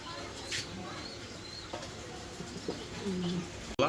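A pair of short face pigeons gives soft, low coos against a steady, noisy background, with a brief coo near the end heard faintly at moderate distance.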